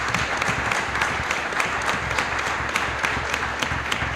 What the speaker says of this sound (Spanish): para los cuales pido un aplauso.